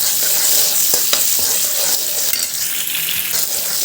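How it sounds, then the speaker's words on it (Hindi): Chopped onions fry lightly in a pan for veg atta momos, with a loud continuous close sizzle and a few stirring scrapes. "प्याज को कर देंगे फ्राई"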